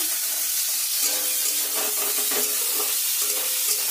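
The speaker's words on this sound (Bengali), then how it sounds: "আলুটা যেই সামান্য ভাজা ভাজা হয়ে যাবে তাতে দিয়ে দেবো গাজর কুচি।" Diced potatoes and chopped carrots frying in a pan, a bright, steady hiss of sizzling oil heard up close, with faint scraping from stirring and no voices.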